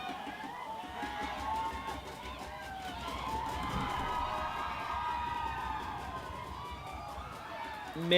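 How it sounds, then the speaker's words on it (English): A steady, loud stadium crowd roars and cheers throughout a Bhutan Premier League football match between Thimphu City FC and RTC FC, with a broad wash of voices, whistles and shouts. "The crowd's totally loving this."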